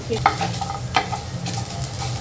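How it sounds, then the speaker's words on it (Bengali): Dried chillies, onion and garlic frying in a little oil, a steady close sizzle with a few sharp spatula stirs and scrapes in the pan. "শুকনা মরিচ পেঁয়াজ আর রসুন একটু অল্প একটু তেল দিয়ে অল্প আছে একটু ভেজে দিচ্ছি"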